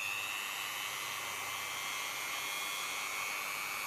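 A Dremel 3000 rotary multitool runs at its lowest speed setting, giving a steady, even high-pitched whine that stays constant and fairly close throughout with no talking.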